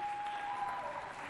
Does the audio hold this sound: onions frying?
no